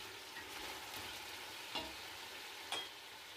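Chicken sizzles steadily in an uncovered pot while being cooked for pulao, a continuous close frying hiss broken by two brief metallic clinks of a spoon.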